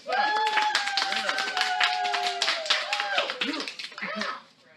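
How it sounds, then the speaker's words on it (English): An audience claps in a small room at a pop culture talk event in a comic shop, with distinct sharp claps forming a lively burst that fades toward the end, and voices cheering over the clapping. "Give yourselves a round of applause."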